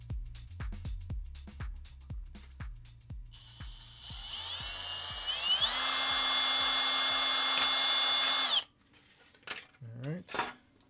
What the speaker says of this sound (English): I've got the Dremel over by the drill press